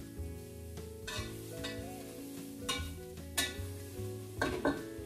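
A spoon scrapes and clinks around a pot as sharp cheddar gets stirred into mac and cheese, giving close, repeated metallic taps and soft scraping over a faint background hum.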